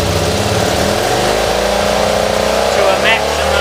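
A small V4 engine runs close by, its revs rising briefly as the throttle is blipped over a steady rumbling idle.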